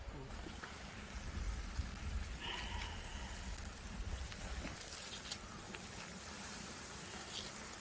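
Soft, steady rain falling outdoors on a rainy day during an open-air meal of Korean chicken stew, a dense continuous patter and hiss at low volume, with occasional quiet clinks and rustles.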